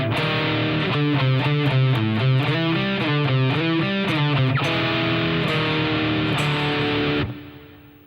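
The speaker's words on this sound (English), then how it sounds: "The verse uses notes from the A blues scale and sounds like this" Heavily distorted electric guitar chugs through a verse riff in the A blues scale, steady palm-muted rhythmic notes with a pinched harmonic, loud and close, ending on a sustained note that fades out.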